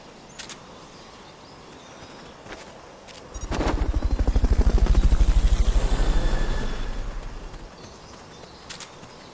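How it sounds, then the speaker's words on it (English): A helicopter's rotor thumps rapidly in the video game Metal Gear Solid: Peace Walker, swelling from quiet to a loud, close pass before fading away, with a few faint clicks around it. "Fulton recovery subject confirmed onboard helicopter."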